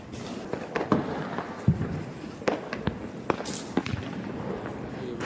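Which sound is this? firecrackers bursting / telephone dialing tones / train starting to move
firecrackers bursting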